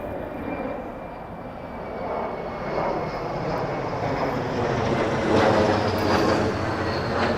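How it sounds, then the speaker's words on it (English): Airplane engines roar overhead at Flushing Meadows–Corona Park in New York City at sunset, a loud, steady jet rumble that swells slowly as the aircraft passes, with no voices. "Power down those engines."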